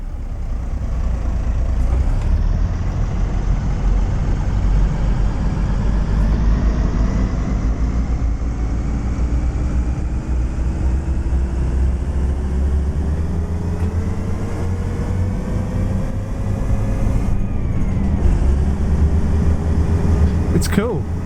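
Diesel locomotive in Train Sim World 4 throttling up as it pulls away, a steady loud rumble with engine tones slowly rising in pitch, a brief air-brake hiss near the start, and a voice talking over it.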